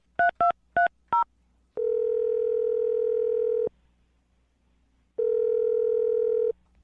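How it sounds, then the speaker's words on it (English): Four quick telephone keypad beeps are dialed in a rapid burst, followed by two long, steady ringback tones separated by a pause of silence, clean and close. "I'm going to dial her phone number right now."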